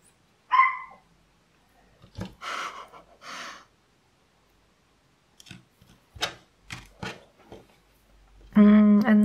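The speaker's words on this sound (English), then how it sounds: "Can you hear Zuzia barking at something or someone?" A dog barks indoors in a quiet home craft room. There are several short, scattered barks and yips with silent gaps between them, and a sharp tonal sound at the end.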